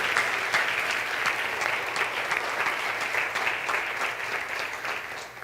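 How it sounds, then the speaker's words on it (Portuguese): A church congregation applauds during a Sunday morning communion service, dense steady clapping filling the room and holding evenly throughout before easing slightly at the end. "Assentando-se, aplaude e glorifique o nome do Senhor."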